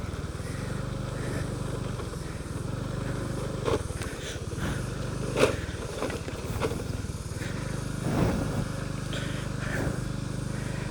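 Motorcycle engine droning steadily while riding up a road toward a hidden tourist spot in Garut, low and continuous with a few scraping bumps and brief louder bursts, no talk over it.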